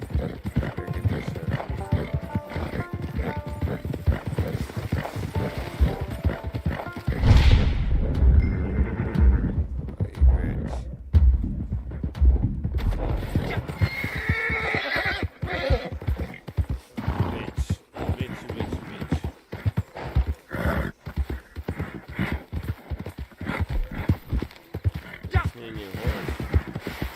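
Horse hooves clip-clop in Red Dead Redemption 2, a steady close trot of sharp knocks running throughout, with a whinny, game ambience and someone talking over parts of it.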